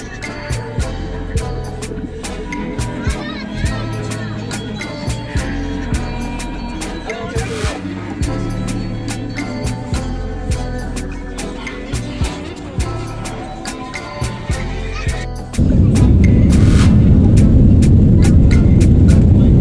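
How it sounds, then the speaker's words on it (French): Passenger jet taking off, heard from aboard during a trip to Cameroon: a steady cabin hum with scattered clicks, then a sudden loud, sustained engine roar fills the last few seconds. "Et voilà, le décollage est amorcé."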